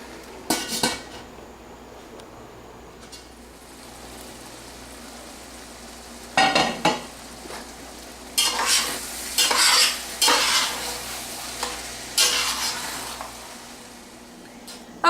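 Onions for French onion soup being turned over in a pot, a soft low sizzle under repeated clattering scrapes and clinks of a utensil against the metal, arriving in short bursts and mostly in the second half, close up with no talking.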